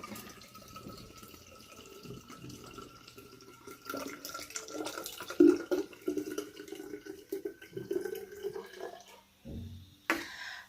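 Liquid is poured into a jar to grow a homemade kombucha SCOBY, a close, gentle trickle and splash that swells and fades over several seconds.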